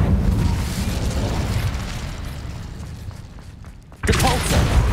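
The Incendio fire spell in Hogwarts Legacy comes across as a loud, roaring, crackling blast that stays sustained and then fades, followed by a fresh burst of impact.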